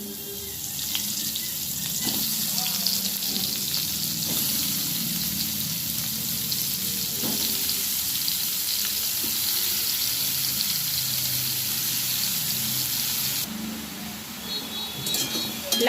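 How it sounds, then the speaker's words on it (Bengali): Bottle gourd pieces fry in hot oil in a kadai, giving a steady, dense sizzle that runs unbroken throughout with faint clinks and no talking. "আমি এবারে লাউগুলো ভেজে নেব।"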